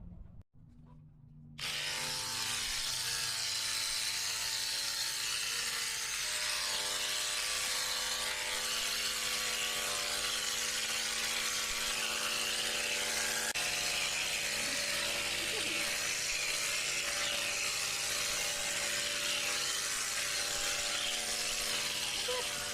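Electric clippers trimming the neck hair of a miniature horse mare, a steady close buzzing hum that starts abruptly and runs on without pause.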